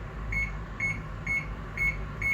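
Home kitchen oven giving five short, evenly spaced electronic beeps about half a second apart as its temperature is set to 200 degrees, over a low background hum.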